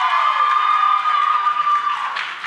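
A live audience bursts into applause and cheering on cue, a steady wash of clapping and whoops that swells and holds for a couple of seconds before thinning out.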